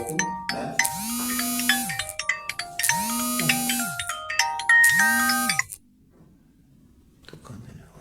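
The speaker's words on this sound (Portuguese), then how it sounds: "Tocando telefone." A phone rings in three repeated rising melodic bursts, loud and close, then stops abruptly, leaving quiet background noise.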